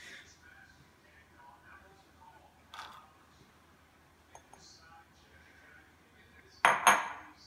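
Pot and utensils clatter in a loud burst near the end as chopped onion goes into a casserole, after quiet kitchen rustling and a few small clinks.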